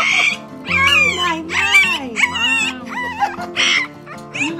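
A newborn West Highland White Terrier puppy whimpers and squeals in repeated rising, wavering cries, close and fairly loud, while a person talks softly nearby.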